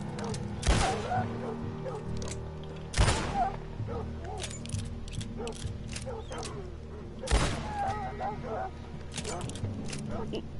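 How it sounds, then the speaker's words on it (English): A dog barks in a video game, a few sharp loud barks spaced several seconds apart, with lighter clicks and clatter in between and a player talking over the game sound. "Do you not feel bad for a dog?"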